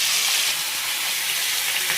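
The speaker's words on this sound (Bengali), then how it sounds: "মাছটি ফ্রাই, মাছ ভাজা হচ্ছে, এইগুলি রান্না হবে।" Fish sizzling steadily in hot oil in a pan, a loud, continuous broadband frying hiss close by with no talk.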